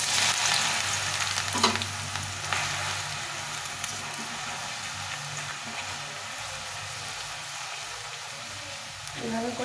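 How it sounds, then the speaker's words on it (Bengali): Potatoes dropped into hot oil crackle and sizzle loudly, with a couple of stirring knocks early on, then a steady close-up hiss of deep frying. "তেলটা গরম হয়ে গেছে, এখন আলুগুলো দিয়ে দিলাম।"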